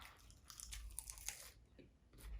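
Crunchy iceberg lettuce salad being eaten up close, with faint, irregular bites and chewing crunches coming in quick clusters over a quiet background.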